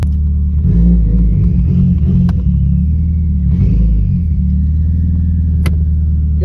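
2018 Subaru WRX with a freshly replaced ACT clutch, its engine rumbling loud and close as it revs and the car creeps off, low drone swelling in two surges with no talk.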